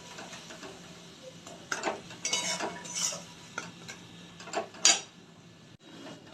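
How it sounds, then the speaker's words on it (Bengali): Prawn paste stirred in a pan makes scattered scraping and clinking strokes of a spoon over a faint low sizzle, quiet and close with no speech. "এবার একটু নেড়ে চেড়ে নেবো ভালো করে।"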